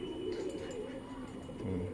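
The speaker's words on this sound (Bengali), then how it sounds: "এটা হচ্ছে মাদা পায়রাটা" A tagged female pigeon gives a low, throaty coo twice in close succession, alone and near, over a faint background hum.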